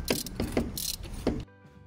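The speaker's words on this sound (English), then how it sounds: "The first bolts to remove from the EGR pipe are on the connection to the EGR cooler." Corroded bolts on a car's EGR pipe connection to the EGR cooler are loosened with a spline M8 bit, giving a few close ratcheting clicks in a quick series that end in a faint background hum.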